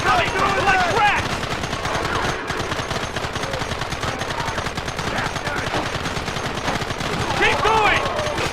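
Rapid, continuous gunfire from a Red Dead Redemption shootout rattles through the whole stretch, loud and close. Shouting voices break in near the start and the end.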